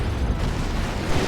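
A tank blows up in the Warhammer 40k real-time strategy game Dawn of War 2, giving a heavy, rumbling blast that stays loud and dense for over a second with no talking over it.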